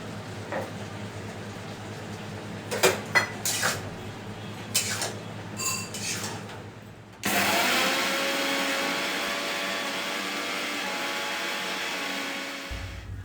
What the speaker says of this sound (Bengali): এটা আগে মিক্সিতে বেটে নিই